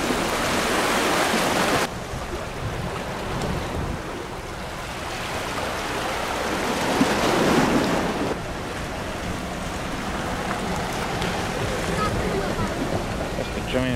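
Ocean waves wash against the shore in Majuro, Marshall Islands, a steady broadband roar with a louder surge at the start and another swell midway, continuing throughout without talk.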